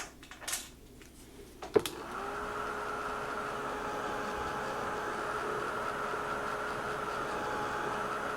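A heat dryer blows on wet ink on a stencil craft. It clicks on with a sharp snap, then settles into a steady, even whirring hum that holds at moderate volume.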